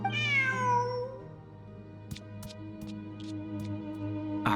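A cat gives one drawn-out meow that falls in pitch, heard clearly up close over a sustained musical background with a few faint clicks afterward.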